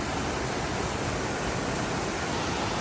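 Waterfall in Bwindi Impenetrable Forest, Uganda, a steady, even rush of falling water heard as constant broadband roar, moderately faint and unbroken, with no talking.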